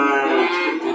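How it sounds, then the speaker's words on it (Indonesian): Javanese cattle moo at a cattle market, a single sustained, close and loud bellow with a rich harmonic tone lasting the whole second, no talk over it. "Sapi-sapi Jawa ekonomis"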